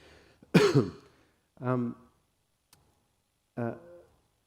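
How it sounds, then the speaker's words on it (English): One harsh, sudden cough up close, followed by two short voiced throat sounds, with quiet gaps and a small click between them. "I have to cough again"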